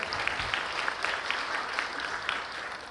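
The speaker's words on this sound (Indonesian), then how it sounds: "tepuk tangannya dong untuk Mbak Sasa." Audience applause at a talk on gender equality and social inclusion in the energy transition, a steady patter of many hands clapping at moderate distance, continuous for several seconds with no talk over it.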